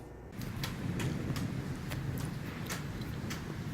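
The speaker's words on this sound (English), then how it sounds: "Hear that rain starting to hit. Thunder." Rain begins falling outdoors with rumbling thunder, a steady broadband wash with a low rumble and scattered sharp drop impacts, fairly loud and continuous after a brief quiet start.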